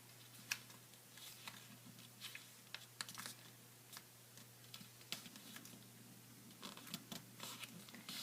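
Soft crinkly paper sounds as a sheet of origami paper is folded toward its center and creased, faint scattered rustles and taps over a steady low hum.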